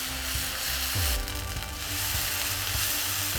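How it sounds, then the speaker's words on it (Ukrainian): Small spoonfuls of potato pancake batter (deruny) sizzle in a frying pan, giving a steady, close frying hiss that lasts the whole moment, with a faint scrape near the start. "Так само викладаємо ложкою невеликі кружечки на пательню"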